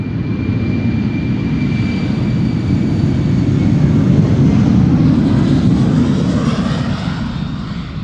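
A British Airways Embraer 190 departing Amsterdam Schiphol, a loud, close, continuous roar of jet engines with a broad rumbling low end and a faint high whine, holding steady throughout.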